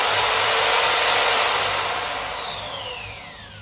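A Bosch GSB 500 RE 13mm impact drill runs at a loud, close, steady high whine, then spins down gradually as the trigger is released.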